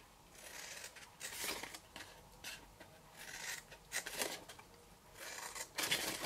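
Scissors cutting along marked lines in paper for a window box holding twelve tea lights, several separate bursts of close, quiet snipping with short pauses between them, no talking.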